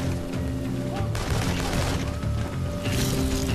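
Loud gunfire and grenade blasts from the video game InFamous Second Son come as dense bursts of shots and booms that overlap continuously, with a heavier explosive crash near the middle.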